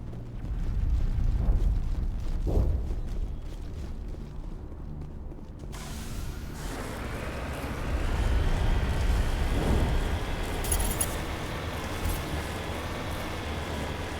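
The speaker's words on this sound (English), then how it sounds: "Ah, a grenade." A grenade goes off in the Mass Effect video game with a deep, rumbling boom. The rumble swells into a broad, sustained roar that hangs on with a heavy low-end drone, loud and without speech.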